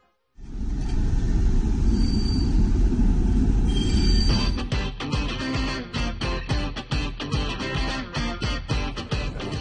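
A tram ride in Budapest: a steady loud rumble of the moving tram, then rhythmic rail clacks as the wheels run over joints, close and continuous with no talk.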